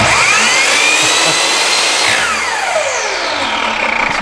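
Power saw motor starting up for wood cutting: a loud, close electric whine spins up and holds at a high, steady pitch, with a descending sweep as the speed shifts, and no talk over it.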